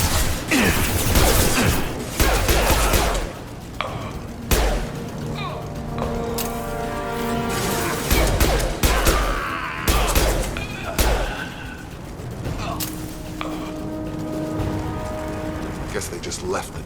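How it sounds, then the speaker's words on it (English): Gunfire in the video game Mass Effect 2, with mercenaries and Vorcha shooting: loud bursts of rapid shots and impacts erupt repeatedly amid a dense, noisy battle mix, with music-like tones and a voice speaking in between. "Blue Suns and Vorcha shooting anything that moves."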